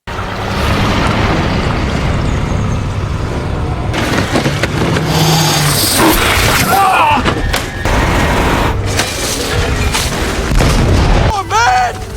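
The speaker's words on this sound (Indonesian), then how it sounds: "perahu yang dia bawa melaju dan menabrak sehingga perahu tersebut meledak" A boat explodes in a loud, chaotic blast with heavy booms and crackling debris, followed by sustained rumbling noise and a brief high whistling tail near the end.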